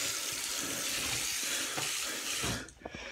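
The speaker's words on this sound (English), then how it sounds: "So let's put some water in there." Tap water pours steadily into a bottle as a continuous loud rushing stream, then cuts off abruptly near the end, leaving a few small drips and clunks.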